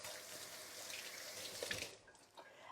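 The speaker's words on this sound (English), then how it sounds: "I'm going to wash my hands." Hands are washed under a running kitchen tap after messy cooking, with a steady, faint hiss of flowing water and soft splashing that drops away briefly near the end, no talk.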